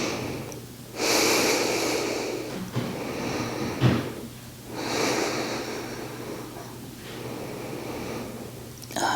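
Slow, deep yoga breaths held in a side-lying pose, with about three long airy inhale-exhale cycles close to the mic, separated by quiet pauses and a few soft knocks.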